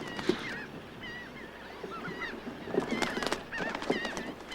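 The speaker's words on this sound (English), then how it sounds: "that bird is all decorated and ready to go to the Arctic. Red knot." Red knot shorebird calls outdoors: repeated modulated whistled notes and honk-like calls, moderately loud over steady background noise, with several clustered bursts.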